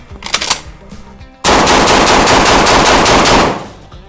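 A Saricam shotgun fires rapidly in a sustained, very loud volley of shots lasting about two seconds. Scattered sharper reports come just before it, during a day of firing a thousand rounds.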